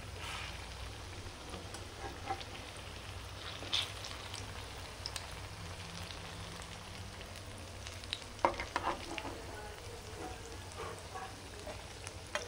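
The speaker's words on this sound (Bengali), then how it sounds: "এটা এরকম সুন্দর করে ভাজা হবে" Small chhena pearls fry in a pan for a Diwali moti pulao, giving a soft, continuous sizzle with light crackles and occasional stirring clicks, faint and steady with no talking.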